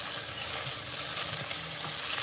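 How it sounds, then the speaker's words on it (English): Onions fry in a pan with a dense, continuous sizzle and crackle that stays loud and even throughout, with no talking. "And then the sizzling goes up, you see?"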